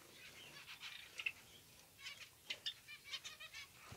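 A Java sparrow, or rice finch, sings in short, faint chirping and clicking phrases, soft high notes spaced irregularly against a quiet background.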